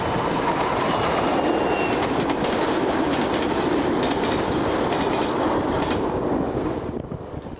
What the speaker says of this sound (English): 1449 hurries south with the São Pedro da Torre to Gaia cement empties